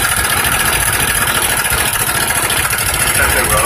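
A Honda Beat 100 cc scooter with an AT110 carburetor and a freshly rectified cylinder idles steadily and loudly close by, its running seemingly rough, a continuous engine drone with no break across the whole stretch.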